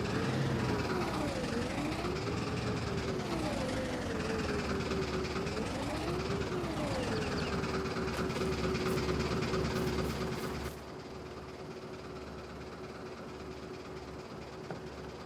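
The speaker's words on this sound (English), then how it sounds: "Don't want to zoom in too much because the tractor's really loud." A loud, droning Fiat tractor engine in Farming Simulator 22 revs up and down in waves, then settles to a lower steady idle.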